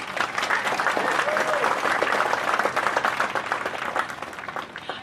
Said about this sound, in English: let's hear it here for a round of applause for us